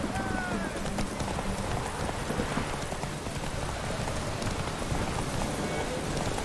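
Horses gallop in a race in The Witcher 3, a dense, steady clip-clop of hooves running throughout at full loudness, with a game voice and faint rain-like patter mixed in.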